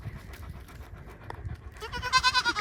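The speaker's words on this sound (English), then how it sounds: "Look at that little goat playing with a weed." A little goat nibbles and plays with a weed at close range, with soft rustling and low animal sounds early on, then a short burst of high, bright bleating or panting noise near the end.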